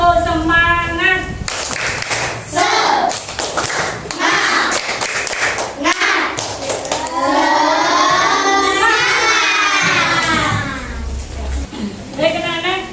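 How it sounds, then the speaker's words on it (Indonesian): A classroom of children performs rhythmic spirit clapping, quick patterned claps and taps coming in bursts with childish chanting and voices mixed in, loud and close. "Tepuk semangat."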